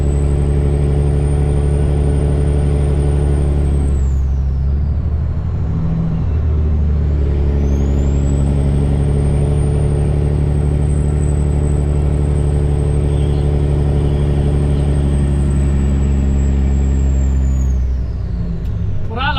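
A 2003 Kenworth truck with a Cat 3406E diesel engine drives along, giving a loud, steady low engine rumble with whining gear tones and a brief dip in pitch as it shifts partway through.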